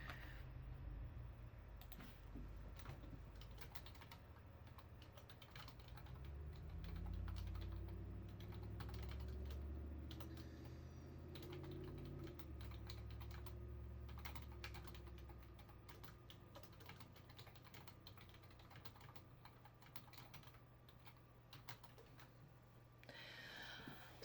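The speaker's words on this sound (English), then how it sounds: "I didn't mean to hear you just typing away" Steady typing on a computer keyboard with rapid clicking keystrokes that run continuously and fairly faint, with no voices.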